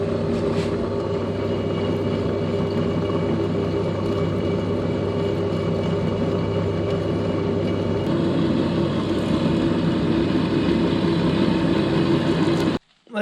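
A power drill boring new stud holes in a Ford 8.8 axle hums in a continuous, steady whir, shifting pitch partway through and cutting off abruptly near the end.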